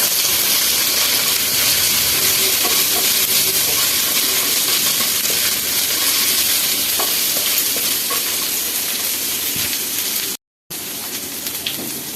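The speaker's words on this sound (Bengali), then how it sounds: "আমি এইভাবে আদা বাটাটা একটু ভেজে নেব" Ginger paste fries and sizzles steadily in a pan, with a dense, continuous hiss and occasional stirring scrapes running close and fairly loud throughout, broken by one brief dropout near the end.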